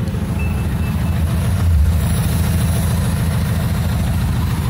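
A customized Volkswagen Beetle engine idles up close, a loud steady low chugging rumble with a fast even pulse that continues unbroken throughout.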